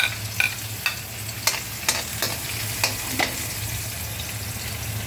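Onion and garlic sauté in oil in a pan for Filipino giniling, giving a steady sizzle broken by a series of sharp spatula stirs and scrapes roughly every half second. No one speaks.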